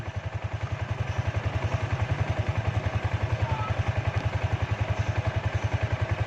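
Noisy drive chain on a new Yamaha Sniper 155 motorcycle, a steady rapid rhythmic clatter over a low engine thrum, loud and close throughout without pause.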